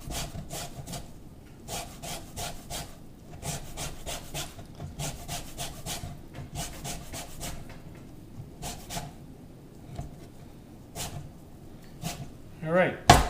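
A lime is zested on a grater with repeated quick rasping strokes in short bursts, close and clear, with a person talking over the scraping.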